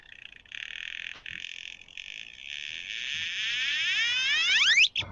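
A homemade DIY synthesizer gives off a steady buzzing electronic tone with brief dropouts, then rapid rising chirp-like sweeps that stack up before cutting off abruptly near the end.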